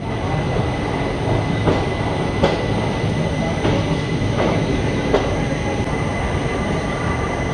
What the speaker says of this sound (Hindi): हमारी ट्रेन आ चुकी है इंदौर जंक्शन पर